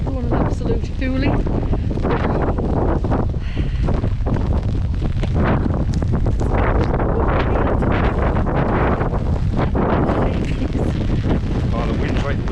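Strong wind buffets the microphone outdoors at a lakeside campsite, a loud continuous roar with gusty surges throughout.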